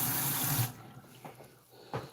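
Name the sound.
water being poured for soursop juice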